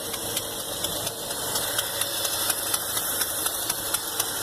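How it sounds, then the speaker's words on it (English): An old engine idles roughly with an exhaust leak, giving a steady low rumble with regular sharp ticking puffs running through it. "I think that's an exhaust leak we're hearing there."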